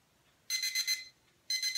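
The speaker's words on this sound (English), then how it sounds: "So when the timer goes off, you're done." A timer alarm sounds in two bursts of rapid, shrill electronic beeping, each a quick run of about four pulses, separated by a short pause, fairly clean and alone.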